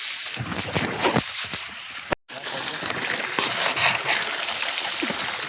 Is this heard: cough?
no